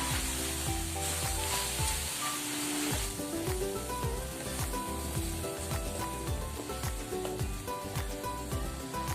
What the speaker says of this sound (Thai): แล้วก็ผัดให้ทุกอย่างเข้ากันอีกรอบนะจ๊ะ